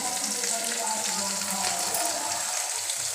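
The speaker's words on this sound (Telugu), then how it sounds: "కుక్కర్ పెట్టుకొని ఆయిల్ వేసి పోపు గింజలు వేసా. బీరకాయలు వేస్తున్నా." Ridge gourd pieces fry in oil with tempering seeds in a pressure cooker, making a loud, dense, continuous hiss and sizzle that stays close and steady throughout.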